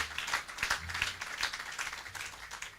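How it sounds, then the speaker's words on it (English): An audience claps at the official opening of a police station, a steady patter of many hands at moderate volume, fairly even throughout. "Clap them louder than that"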